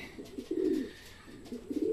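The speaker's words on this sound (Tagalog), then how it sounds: "nagpakain na tayo ng mga ibon natin" Racing pigeons coo in soft, low, repeated calls at a training loft in Sto. Tomas, Batangas, fairly close and at moderate loudness, with no talking.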